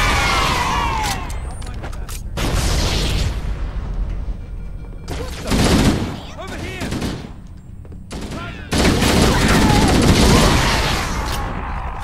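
Covenant enemies fire on the player in Halo: Combat Evolved on Legendary difficulty, loud bursts of alien weapon fire and impacts coming in repeated heavy volleys separated by short lulls.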